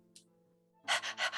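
A person imitates panting out loud, a brief gasp followed by four quick, breathy huffs in an even rhythm, close and fairly loud.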